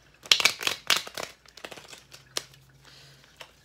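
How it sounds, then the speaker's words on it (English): A deck of playing cards being shuffled, with crisp riffling bursts near the start followed by fainter handling rustles and a soft steady hum. "So let's shuffle this last time."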